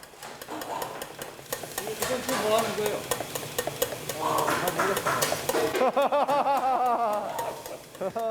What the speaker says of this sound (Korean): 대신 계란 노른자를 풀어 소스를 준비합니다.